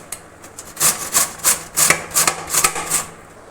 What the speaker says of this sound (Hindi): अब इससे हम कद्दूकस कर लेंगे।